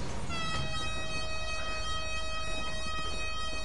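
Police sirens wail in the GTA 5 video game, a steady sustained tone held at moderate distance for the whole stretch with no talk over it.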